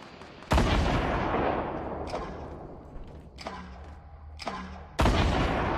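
Rocket and gunfire explosions in the game Squad: several booming blasts land a few seconds apart, sharp onsets trailing into rumbling decay, with smaller distant thuds between them over a low background din.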